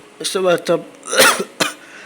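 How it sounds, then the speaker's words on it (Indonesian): A few short, harsh coughs close to the mic, bunched together with brief gaps between them. "gue batuk-batuk cuy"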